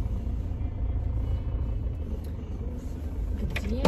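Inside a moving car, a low road rumble and engine drone fill the cabin continuously, with faint knocks and rustles near the end.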